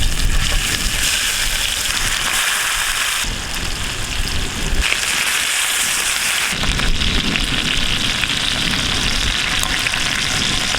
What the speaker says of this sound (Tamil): எண்ணெய் சூடாயிருச்சு. இப்போ இந்த சிக்கனை போட்டு பொரிச்சு எடுத்துக்கலாம்.